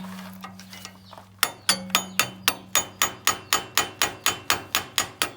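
A hammer strikes rapidly and evenly, about a dozen sharp metallic blows, driving out a stiff part while the clutch is adjusted on a 5D series vehicle. A low hum sits beneath the blows.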